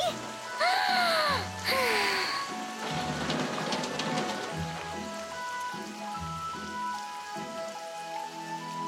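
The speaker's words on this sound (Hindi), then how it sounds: "आखिरकार बारिश आ गई।" Rain arriving during a dry spell, a broad steady patter of drops filling the scene throughout, with a few brief high whistling or voice-like sounds near the start over the rainfall.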